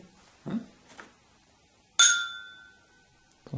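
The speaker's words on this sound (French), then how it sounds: "Bon, on va trinquer." Rosé champagne glasses clink together in a toast, giving one bright ringing chime that lingers and fades, preceded by a few soft handling knocks in a quiet room.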